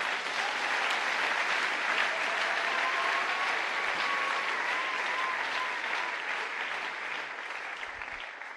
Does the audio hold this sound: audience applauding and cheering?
yes